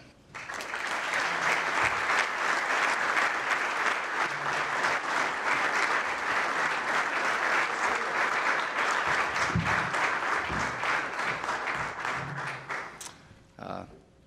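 Sustained audience applause welcoming Sean Elliott at a press gathering, steady dense clapping from a crowd lasting over ten seconds before fading out.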